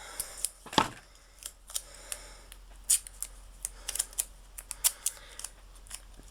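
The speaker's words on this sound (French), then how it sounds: "Voilà, on va le découper là." Scissors cutting paper for a scrapbook collage, a series of close, crisp snips in an irregular rhythm with quiet rustling between them, no talk.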